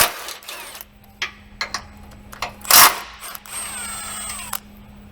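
Someone works loose 15mm sway bar bolts on a RAM TRX truck with a power tool, making short whirring bursts and ratcheting clicks that stop and start over a low steady hum, close by.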